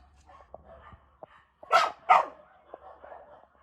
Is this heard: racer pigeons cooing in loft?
no